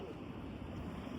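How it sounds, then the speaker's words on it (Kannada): Water rushes through a river gorge between two hills in a steady, broad roar, recorded close by and alone, with a windy, surf-like texture. "ನಿಮಗೆ ಆ ಶಬ್ದ ಕೇಳಿಸ್ಬೋದು, ನೀರಿನ ಶಬ್ದ."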